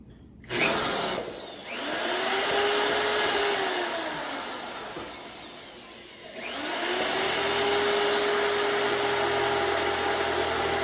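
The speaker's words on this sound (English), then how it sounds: "this is just a Chicago Electric 1/2 inch drill" An old Chicago Electric half-inch corded drill runs close and loud with a whining motor. It spins up, eases down through the middle, then revs back up and keeps running steadily, with no talk.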